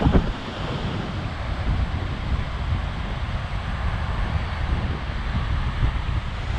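Ocean surf at Trestles beach in Southern California makes a continuous broad roar of breaking waves, loud and close, with wind buffeting the microphone throughout.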